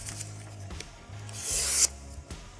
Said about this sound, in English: we're going to give a little tickle up on the steel